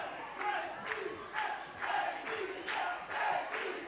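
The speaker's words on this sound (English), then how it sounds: "you can actually hear that home advantage, the crowd chanting Benfica early on" Football stadium crowd at a Benfica home match chanting in rhythmic swelling waves, a loud massed roar rising and falling about every half second, with no commentary over it.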